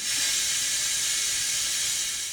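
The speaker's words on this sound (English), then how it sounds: "I heard somebody using the steam thing to clean a jug out a few days ago. I thought it would be cool to try, maybe fake an alligator hissing." A steam cleaner lets out a steady, loud hiss for a couple of seconds, used to fake an alligator's hiss; broadband and unbroken, with no voices.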